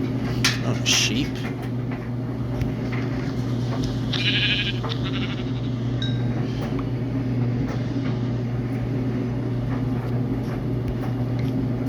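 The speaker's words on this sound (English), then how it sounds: "Oh, sheep." A sheep bleats in Minecraft Pocket Edition (Bedrock), short game bleats near the start and middle over a constant droning hum of game background sound, with faint clicks scattered throughout.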